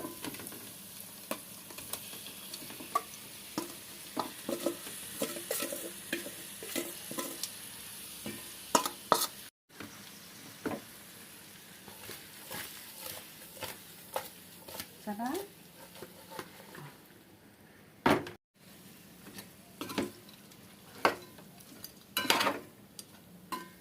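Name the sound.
fish pieces frying with ginger garlic paste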